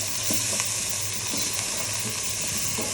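Turmeric, garlic paste and ginger paste frying in hot oil: a loud, dense, continuous sizzle broken by regular scrapes of a stirring spoon, close up with no talking.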